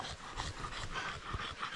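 A dog pants quickly and rhythmically nearby, soft breathy puffs repeating without pause, fairly quiet.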